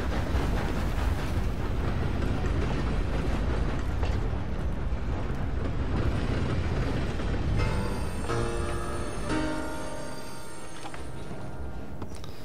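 In the video game Red Dead Redemption 2, a heavy, continuous rumble and roar of an approaching train, then screeching metallic tones rise as it slows toward a stop.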